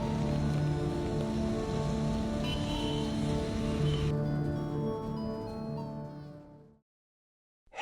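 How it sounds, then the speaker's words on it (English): Rain falls outdoors as a dense, steady hiss of drops under a faint tonal hum, thinning slightly before cutting off into silence near the end. "Let's get inside before this rain turns to ice."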